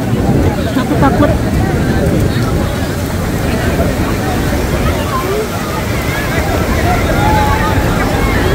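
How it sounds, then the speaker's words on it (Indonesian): Very strong storm wind in Makkah roars steadily and loudly close to the microphone, buffeting it throughout, with crowd babble beneath. "Walaupun pakai payung pun gak akan ngaruh karena ini anginnya amat sangat kencang. Ini termasuk badai, sahabat semua."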